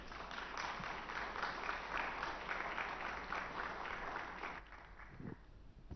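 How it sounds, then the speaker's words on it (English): An audience applauds at a talk event, a dense, fairly faint wash of clapping that fades out toward the end. "I think the applause more than well merited"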